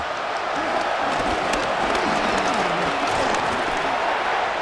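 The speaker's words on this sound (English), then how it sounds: "This crowd turning up the decibel level." Stadium crowd in a Madden 26 football video game, Broncos vs. Bengals, roaring on a third and long, a dense, steady wall of cheering that holds loud throughout with no clear breaks.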